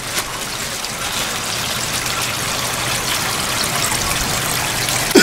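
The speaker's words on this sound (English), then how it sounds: "that sound of the water running." Water from a Bond Bloomington cascading cup fountain spills and trickles steadily, a continuous close splashing babble with no voices over it.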